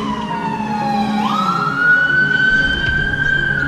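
Emergency vehicle sirens wailing outdoors, one tone sliding down then sweeping up and holding high while a second siren overlaps, loud and close with traffic rumble underneath and no talking.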